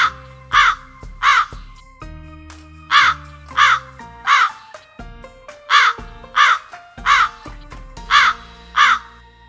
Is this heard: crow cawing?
yes